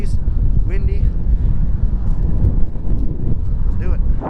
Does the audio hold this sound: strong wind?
yes